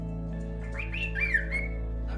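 A pet bird at home gives a few squawks and whistling calls, close and moderately loud, over a constant low household hum.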